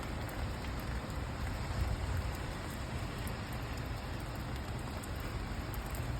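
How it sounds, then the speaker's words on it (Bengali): Rain falls steadily in a soft, continuous hiss. The even wash stays faint and unbroken, with no voices. "এই দেখেন বৃষ্টিটা মাশাআল্লাহ"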